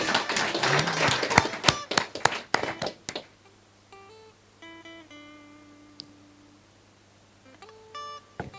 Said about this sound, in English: Keep the applause rolling.